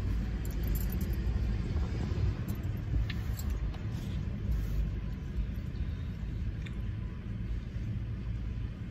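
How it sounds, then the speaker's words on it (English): A car passes by outside, its engine rumble steady and loud through the whole stretch, with faint music from the passing car mixed into the low roar. "That's a car that passed by me, YouTube. That ain't me playing that music."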